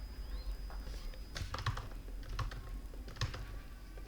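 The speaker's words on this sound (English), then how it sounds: "I'm just typing" Soft keyboard typing in short irregular bursts of clicks, close by, over a quiet background hum.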